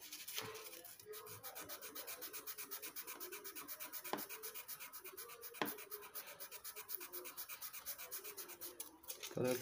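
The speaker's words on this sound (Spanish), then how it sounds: "Tomamos un pedacito de lija" A small piece of sandpaper rubbed back and forth over a BC Rich Warlock bass body, fast steady scratchy strokes, close up and soft, with a few sharper taps along the way.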